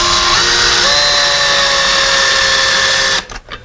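A power drill drives a screw into a window blind mounting bracket with a steady whining motor hum for about three seconds, then stops with a few faint clicks.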